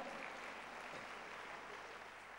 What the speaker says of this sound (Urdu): آپ کی بھرپور تالیوں میں لیڈیز اینڈ جینٹلمین